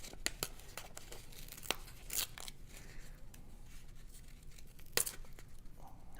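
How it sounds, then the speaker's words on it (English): Paper bag pages being torn by hand, a series of faint, scattered ripping and crinkling bursts with a few sharper tears, close but quiet, no speech. "I do a little bit of tearing across here."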